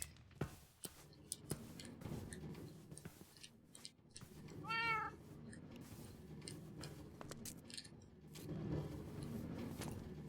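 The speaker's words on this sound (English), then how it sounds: "Cat meows." A cat meows once in the Minecraft video game, one short call partway through, set among faint ticking clicks and low ambient game sound.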